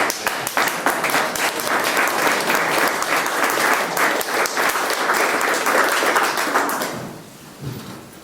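People at a school board meeting applaud, dense close clapping that holds steady for about seven seconds and then dies away, followed by a brief murmur.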